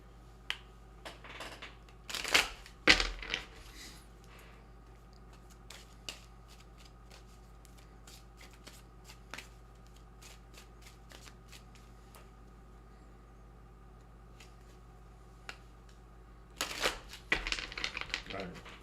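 Energy oracle cards are shuffled close by in two brisk riffling bursts, one early and one near the end. Soft card handling and quiet taps fill the stretch between them, over a low steady hum.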